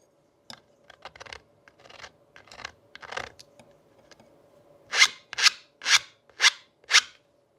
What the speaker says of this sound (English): draw file, slide sideways just to remove the witness marks of the filing.